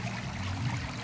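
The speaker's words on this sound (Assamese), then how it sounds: "সৰুকৈ নদীৰ জুৰি এটা বৈ গৈছিলে" A small hill stream flows steadily nearby, a continuous low watery rush and trickle with no talking.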